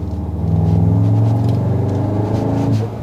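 A VW Tiguan R engine revs in race mode, a loud, steady low rumble rising as the throttle opens, holding high revs for about two seconds before dropping off near the end, with no talk over it.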